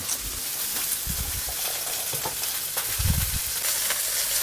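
Chicken pieces for poulet basquaise searing in a hot pan, giving a steady dense sizzle close by with a few low thumps as pieces are moved.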